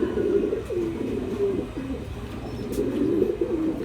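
Close, soft cooing from a pair of pigeons, repeated in low murmuring phrases over steady background hiss.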